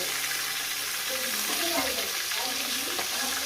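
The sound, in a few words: rohu fish heads frying in oil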